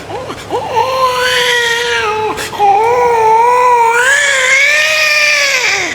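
A voice imitates a boy crying, a sustained wavering wail that breaks briefly, then resumes, rising and sobbing, loud and close, at the Dhutpapeshwar temple in Rajapur.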